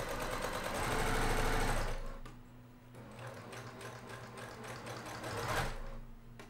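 A sewing machine stitches quilt pieces for a vintage star-pattern sampler quilt, whirring in close, fast bursts that slow and pause, then speed up again.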